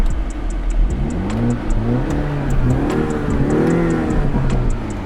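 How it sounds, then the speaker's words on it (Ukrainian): A BMW turbo engine idles and revs in rising and falling swells, a steady throaty exhaust drone with a faint regular ticking above it. "Ось так працює вихлоп"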